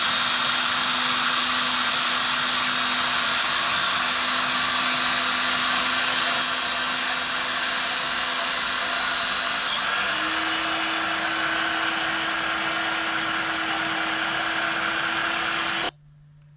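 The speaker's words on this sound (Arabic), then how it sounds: "ونبداو نميكسيوه في الخلاط." Kitchen blender whirring as it mixes beetroot with water into juice, a loud, steady motor drone that shifts pitch slightly partway through and then cuts off abruptly.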